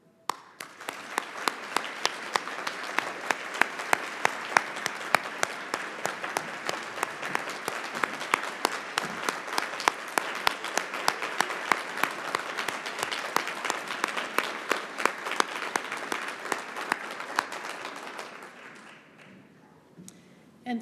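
A large audience applauds steadily for about twenty seconds at an evening behavioral health legislative forum, dense clapping holding at an even level before tapering off near the end.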